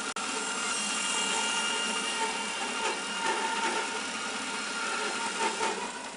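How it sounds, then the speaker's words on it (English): A bandsaw cuts through timber fed steadily with a push stick, giving a continuous high, gritty whine with a small click at the start, fairly loud and with no talk over it. "using my push stick, let the timber cut in its own time"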